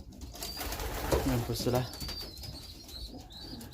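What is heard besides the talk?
racing pigeons cooing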